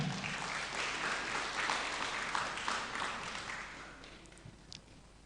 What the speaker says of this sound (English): Everyone please clap for her.